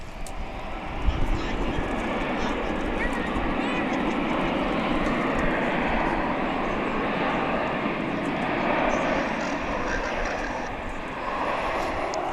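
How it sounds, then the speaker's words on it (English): A large airliner at DFW International Airport gives off a steady, loud, broadband engine roar that holds without pause, with faint voices mixed in. "So this super humongous aircraft is now headed towards Terminal D."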